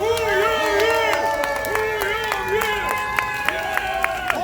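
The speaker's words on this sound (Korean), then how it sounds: "우리 고영일 변호사께 다시 한번 확신을 갖고 싸워달라고 큰 박수를 보내주시기 바랍니다." A crowd at a rally claps and cheers for a lawyer, Go Young-il, dense applause with scattered whoops and sharp claps, while a voice speaks loudly over a public address system on top.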